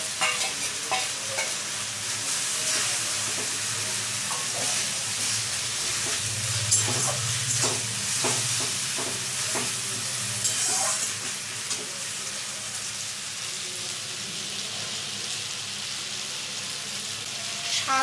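Tomato paste frying in a pan for green chicken, with a loud, continuous sizzle and repeated scraping strokes of a spoon stirring the mixture, close up. A faint voice comes through now and then.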